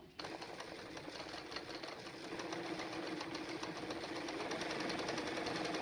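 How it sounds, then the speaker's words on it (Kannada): Embroidery sewing machine doing a running stitch, a fast steady mechanical clatter starting abruptly and continuing evenly and close throughout, with no talking over it. "ಈಗ ರನ್ನಿಂಗ್ ಸ್ಟಿಚ್ಚಲ್ಲೇ ಬೇಕಾದರೆ ನೀವು ಹಾಗೆ ಮಾರ್ಕ್ ಮಾಡ್ಕೋಬೋದು"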